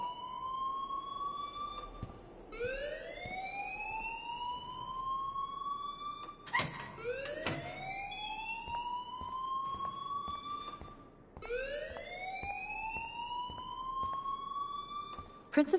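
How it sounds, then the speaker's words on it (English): An alarm blares in the video game Life Is Strange with a siren-like wail that sweeps upward and then holds, repeating about four times in regular cycles, broken by a few sharp clicks and knocks. "please turn off that alarm since that's your job."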